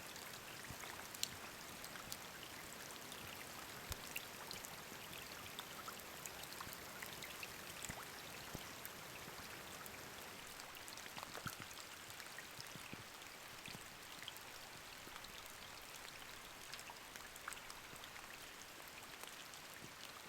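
Steady winter rain falls and patters on nearby surfaces at a campsite, with scattered drips and a continuous wash of sound and no voices.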